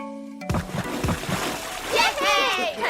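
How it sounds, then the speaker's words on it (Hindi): Children splash and play in water in a Hindi-language cartoon, with sharp splashes and sloshing over about three seconds while kids talk and shout excitedly. "चलो सभी लोग पानी में मस्ती करते हैं।"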